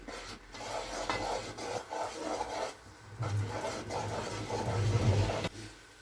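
A spoon scraping and stirring dry milk halwa as it roasts in a pan, with rhythmic rasping strokes that come in repeated bursts, close and moderately loud, and a faint sizzle in between.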